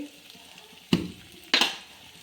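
Garlic dropped into a hot pan for a rava snack, giving two short bursts of sizzling, each spitting loudly and then settling, with no talking.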